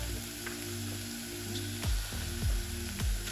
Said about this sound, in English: I'm going to sear a few courgettes.